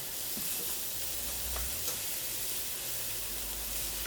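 Eggplant slices fry in a pan of very hot oil for a layered Mediterranean casserole, giving a steady, loud, close sizzle with a constant hiss and no voices over it.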